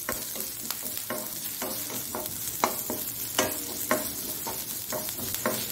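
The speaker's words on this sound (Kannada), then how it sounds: "ಒಂದು ಕರಿಬೇವಿನ ಸೊಪ್ಪನ್ನು ಸಹ ಒಂದು ಎಳೆಯಷ್ಟು ಹಾಕೊಳ್ತಿದ್ದೇನೆ ನಾನು. ಒಳ್ಳೆ ಇದರಲ್ಲಿ ಸ್ವಲ್ಪ ಫ್ರೈ ಆಗಿದೆ." Curry leaves frying in oil for a Mangalorean raw mango and dry mackerel rasa, a continuous close sizzle broken by a string of quick stirring scrapes and taps at an uneven pace, with no speech.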